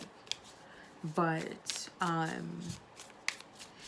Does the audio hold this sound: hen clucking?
no